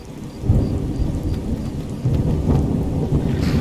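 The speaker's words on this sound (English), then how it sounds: "the thunder on this Scandinavian Seasons isn't bad" Thunder rumbles heavily through steady rain in Skyrim with the Scandinavian Seasons mod, a loud, continuous low roll that swells near the start and again midway, with a hiss of rainfall throughout.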